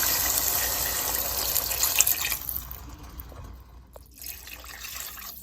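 Water poured from a cup into a pot of red quinoa chicken soup, a brief splashing gush up front that quickly fades into quiet trickles and drips.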